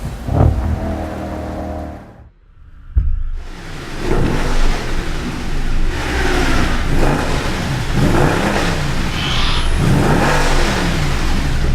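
A powerful 6.2-liter V8 engine in a 2014 Mercedes-Benz C63 507 coupe revs hard and loudly, rising and falling in pitch as the car accelerates, with a brief dip before roaring back.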